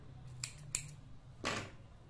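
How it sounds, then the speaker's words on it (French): Scissors snip through crochet yarn in a few quick, close, crisp cuts, two short clicks followed by a longer slicing snip, in an otherwise quiet room with no talking. "Je vais couper le fil,"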